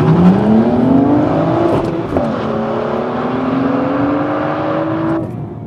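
A BMW M235i sports saloon accelerating hard from a standstill to 60, its engine note climbing steadily, dipping briefly at a gear change near two seconds, then rising again loud and close until lifting off at the end.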